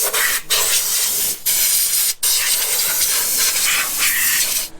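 Compressed air hisses in bursts through an Onan 4000 RV generator on a Jayco, blown clean after an oil and filter change; a steady loud rush is broken by three brief pauses.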